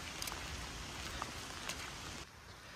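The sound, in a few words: rain falling during a bicycle ride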